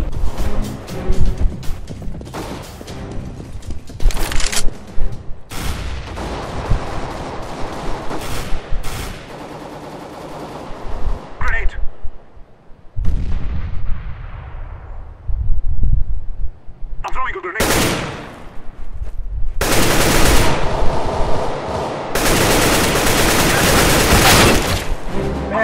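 Counter-Strike GO on the Dust II map brings bursts of close rifle and machine-gun fire, with rapid volleys broken by short pauses and echoing shots, while players talk in between.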